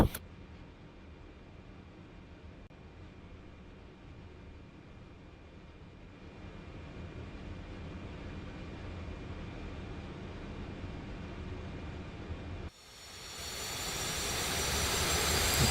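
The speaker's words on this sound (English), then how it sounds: "Now we can start number 3 engine." A C-130J Hercules number 3 engine starting up in the DCS flight simulator: a steady low roar from the already-running engines, then a sudden louder, brighter whine surges in near the end and keeps building.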